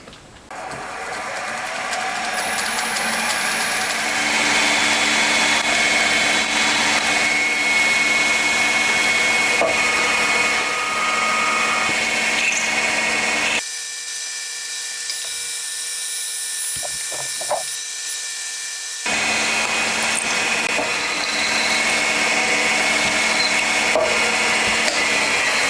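A loud, steady mechanical whirring runs almost continuously, with a brief quieter stretch in the middle, as an electric drill bores screw holes in a Monkey motorcycle engine part.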